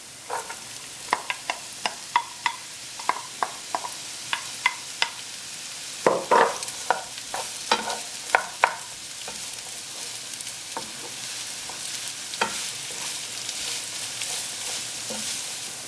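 Finely chopped onions fry with bacon and celery in a pan: a steady close sizzle broken by frequent sharp scrapes and clacks of stirring, with no voices.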